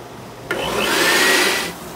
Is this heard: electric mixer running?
yes